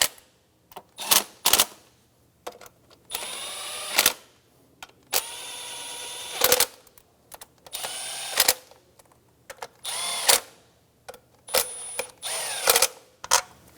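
A power tool runs in short whirring bursts while tightening bolts on a 2003-2007 Infiniti G35 during fuel injector replacement, each burst rising in pitch, separated by clicks and quiet gaps, close and fairly loud.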